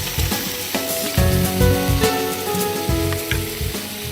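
Yogurt poured into a hot pan for a cashew potato and yogurt curry, sizzling and crackling loudly up close in bursts, with stirring scrapes and the fizz rising and settling.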